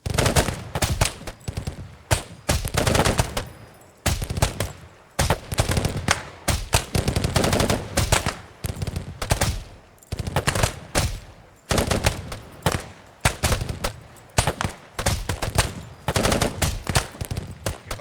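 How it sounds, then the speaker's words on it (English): Rapid rifle fire from a section of shooters on a military training range: dense, overlapping volleys of sharp cracks in quick bursts with brief gaps, loud and close throughout, with no talk. "you will give me some good old rapid fire"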